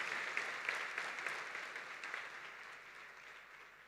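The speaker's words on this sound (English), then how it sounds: "So I think it deserves a round of applause" Faint applause from a crowd at a university welcome ceremony, a soft, distant patter of many hands that slowly fades.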